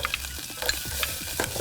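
Onions sizzling in melted butter in a pan, a soft steady crackle with light stirring scrapes, heard close and fairly quiet.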